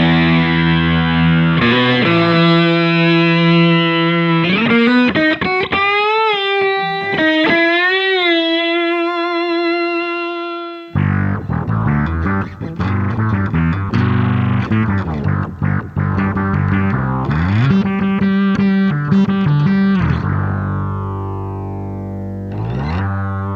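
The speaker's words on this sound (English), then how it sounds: "it creates harmonics and a sound from your guitar that is much different sounding than other distortion" Electric guitar played through a Soundblox Multiwave distortion pedal, producing buzzy, synth-like tones with harmonic sweeps and pitch bends, loud sustained notes and chords played alone without talk.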